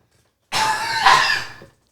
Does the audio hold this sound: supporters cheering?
no